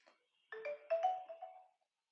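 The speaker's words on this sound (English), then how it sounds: "sorry about that, that's my phone." A mobile phone rings with a bright electronic ringtone, a short melodic phrase of several quick tones that starts abruptly and cuts off after about a second, heard clearly in an otherwise quiet room.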